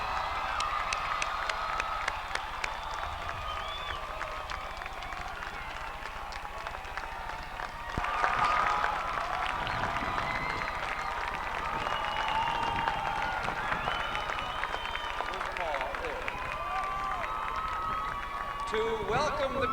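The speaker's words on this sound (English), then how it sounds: "Let's have a round of applause for all of the graduates." Graduates at the 1995 Cortland State College graduation ceremony receive a sustained round of applause from the audience. Scattered cheering and a voice run through the clapping, which swells briefly partway through.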